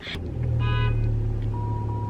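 A car horn beeps briefly over a steady low engine rumble, close by, with a faint high tone lingering afterward.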